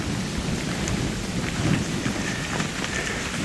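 Heavy rain pours steadily at a seaside camping area while thunder rumbles low and continuous beneath it, a dense close wash of drops with no talking.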